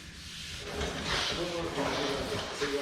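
Sandpaper working out orange peel in the paint of a Dart, a coarse scratchy rasp that swells after the first second and continues beneath a voice.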